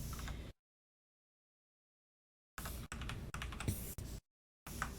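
Computer keyboard keys pressed during work in Blender 3.4, a few close, crisp clicks in short bursts separated by silent gaps, no voices.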